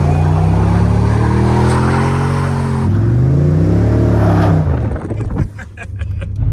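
BMW M2 drifting on a circuit, a loud close engine roar with rising and falling revs and tire noise, then easing off toward the end.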